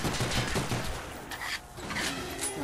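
Rapid, dense bursts of gunfire from the Call of Duty zombies map Ascension rattle almost continuously, loud and close, with a short lull before the shooting resumes.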